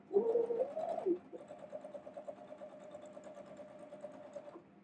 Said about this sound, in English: we're just going to sew straight through, staying on our line